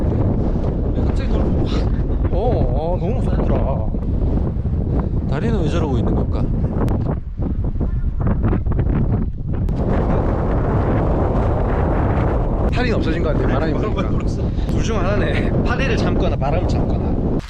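Strong wind buffets an outdoor microphone at Lincoln's Rock, a clifftop lookout in the Blue Mountains near Sydney, a steady loud roar with gusts throughout while people talk over it.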